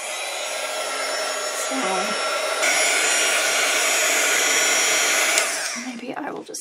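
A hair dryer blows steadily to dry a Distress Oxide inked craft background, a loud continuous whooshing roar lasting several seconds before cutting off, with a brief voice near the start.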